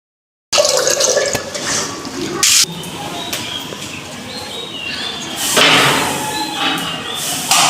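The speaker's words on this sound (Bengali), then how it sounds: "সবজিগুলো ভালো করে ধুয়ে নেই" Tap water runs steadily over vegetables, including cauliflower, being washed by hand in a home kitchen. It splashes and patters close by, with louder gushing bursts.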